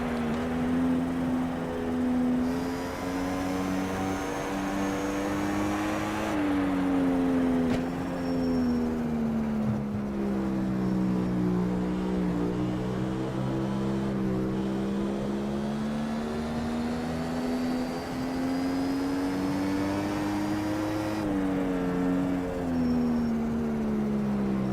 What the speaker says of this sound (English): Starting to go a little faster. Get more revs. We're getting more revs.